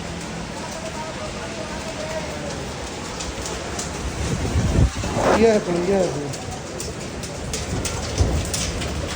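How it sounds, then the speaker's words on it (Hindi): Heavy stormy rain in Kasur, Pakistan, pours steadily as a loud, dense hiss with a low rumble of thunder midway, while someone speaks briefly over it. "जैसे ही हम लोग नीचे आते हैं तो तूफ़ानी बारिश शुरू हो जाती है"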